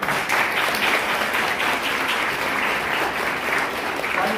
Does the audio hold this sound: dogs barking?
no